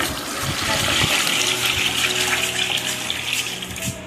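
Water pours over grated potatoes in a steady, close, fairly loud rushing splash that carries on without a break and has no voices.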